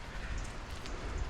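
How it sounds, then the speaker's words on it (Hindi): Continuous rushing of a waterfall and flowing water at the Sri Pada mountain shrine in Sri Lanka, a steady, fairly faint wash of broadband noise with no pauses. "यहाँ पे आपको निरंतर झरने की आवाज़ सुनाई दे रही होगी"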